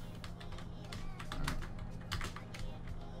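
Rapid computer keyboard clatter, quick irregular key taps close to the microphone, with faint talking underneath, while playing Minecraft.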